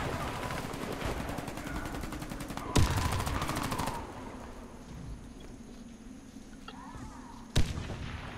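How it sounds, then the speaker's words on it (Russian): A grenade goes off in the online shooter Warface over steady rattling gunfire and battle noise, with two sharp, loud blasts standing out from the continuous combat din and no clear talking. "Кидаю вот гранату."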